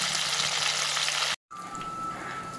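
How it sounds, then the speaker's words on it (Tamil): Fish fries in oil in a pan with a dense, close sizzling hiss that cuts out briefly and then resumes a little quieter alongside a thin steady tone. "மீன் ஒரு பக்கம் நல்லா ஃப்ரை ஆகிடுச்சு. நான் அடுத்த பக்கம் திருப்பி போட்டேன்"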